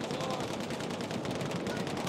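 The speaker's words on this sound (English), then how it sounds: "That's an enemy machine gun!" Continuous enemy machine gun fire in the video game Battlefield 1, a dense unbroken rattle amid battle noise and voices, steady and loud throughout.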